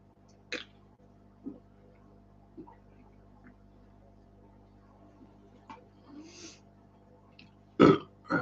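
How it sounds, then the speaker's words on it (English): A single loud, close burp arrives near the end after several seconds of faint clicks and low room hum, followed by another brief noise. "And burp, because that's what I do."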